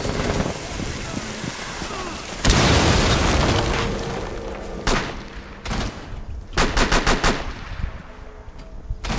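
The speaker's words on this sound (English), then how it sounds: "Careful, Plumbie, they're shooting up." Gunfire in Rainbow Six Siege on the Hereford Base map during team deathmatch: a loud blast, then rattling machine-gun bursts and single shots in quick clusters, with players talking over it.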